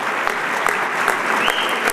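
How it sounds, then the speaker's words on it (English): Steady applause from a banquet audience at a college honors dinner, dense continuous clapping at moderate distance with no talking over it. "Give him a round of applause."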